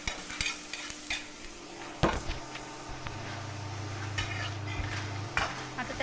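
Chopped onion for poha is stirred in a hot pan on a medium flame, with a low sizzle under occasional scrapes and clinks of a spoon against the pan.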